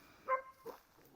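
Two faint, brief yaps from a dog in the background, spaced about half a second apart, distant and soft against a quiet backdrop.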